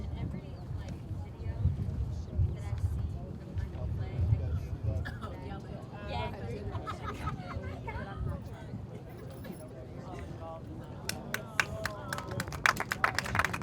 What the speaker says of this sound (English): getting a hand from the crowd as they carry him off the field